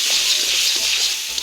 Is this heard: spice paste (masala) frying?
yes